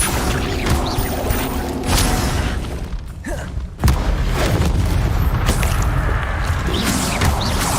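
A fiery Incendio spell blast in Hogwarts Legacy, with a deep booming thud that rises out of a dense rumbling combat soundscape, followed by sustained roaring noise.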